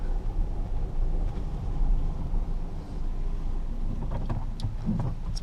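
A 2010 Jeep Patriot engine idles close by, a steady low rumble with a broad, even hiss and no breaks, joined near the end by faint mechanical clicks.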